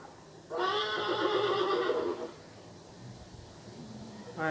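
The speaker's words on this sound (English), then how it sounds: "Let us play the horse one more time." A horse's neigh plays back as one long, clear whinny of about a second and a half, fairly loud against a quiet background.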